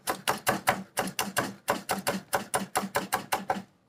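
Collard greens chopped fine with a knife on a board, a fast, even run of about seventeen crisp, close chops in quick bursts with short pauses, no voices.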